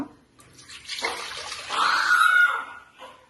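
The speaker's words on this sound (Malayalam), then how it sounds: "2 കപ്പ് പാൽ ഒഴിക്കുക." Two cups of milk poured into a pan while making custard thari kanji, a smooth liquid pour that starts after a brief pause, swells to a steady splashing stream and then tapers off, close and clear.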